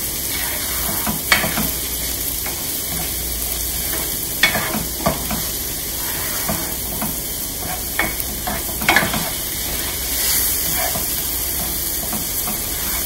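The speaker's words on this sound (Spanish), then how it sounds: "Seguimos moviendo nuestra mezcla." A sizzling mixture seasoned with chicken broth and salt is stirred in a hot pan, giving a steady frying hiss broken by scraping strokes of the spoon at irregular intervals.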